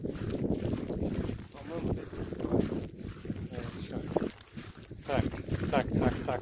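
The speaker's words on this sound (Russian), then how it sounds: "У нас сегодня ветер противный" Strong wind gusts across a frozen lake during winter pike fishing, rumbling against the microphone in uneven surges while muffled voices talk underneath.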